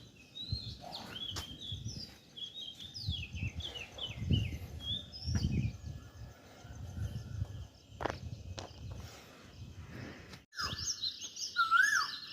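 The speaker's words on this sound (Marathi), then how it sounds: "तुम्ही बघू शकता माझ्या मागं पक्ष्यांचा आवाज किती छान येतो सकाळ सकाळ" Several birds chirp and whistle in short bursts in the morning over crunching footsteps on a path, with a brighter burst of song near the end.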